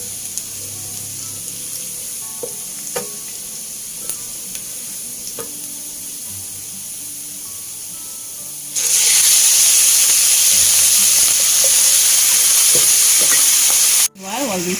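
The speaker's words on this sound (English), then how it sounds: "Okay, we stir fry the garlic." Garlic and minced meat stir-fried in a pan: a soft scraping stir at first, then a loud, steady sizzle that swells midway and holds close before cutting out briefly near the end.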